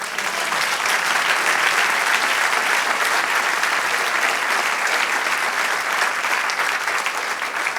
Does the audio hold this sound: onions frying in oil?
no